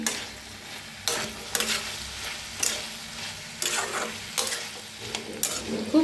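Spiced potatoes tossed in a pan with red chilli powder, garam masala, coriander powder and salt, a spoon scraping in repeated strokes over a steady soft sizzle, close and fairly loud with no talk.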